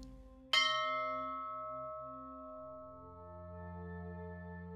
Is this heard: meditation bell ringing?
yes